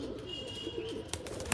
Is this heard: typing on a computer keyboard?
no